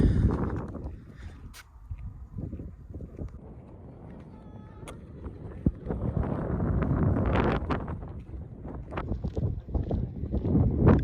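Hot, gusty desert wind in the Death Valley badlands buffets the microphone in a steady low rumble, swelling louder toward the end, with a few faint knocks in the background.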